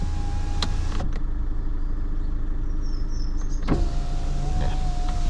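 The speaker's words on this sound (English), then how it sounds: "if I put the window down" An electric power window on a parked car motors down for about three seconds, a steady whirring hum that starts and stops with a clunk, with a distant motorway rumble underneath throughout.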